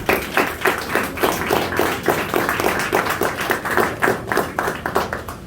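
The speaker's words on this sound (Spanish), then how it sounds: "Denle un aplauso a la soberanía del Señor." Rhythmic group clapping in unison from a church congregation, a steady beat of loud, close hand claps with no voices over it.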